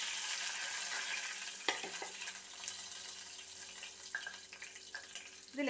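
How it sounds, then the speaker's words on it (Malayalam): Whole red chillies frying in hot oil just after mustard seeds have popped, for a South Indian rasam tempering: a steady close sizzle with sharper crackles and spitting bursts partway through and near the end, no talking. "കടുക് പൊട്ടിക്കഴിഞ്ഞ് നമുക്ക് ചുവന്ന മുളക് ഇട്ട് കൊടുക്കാം."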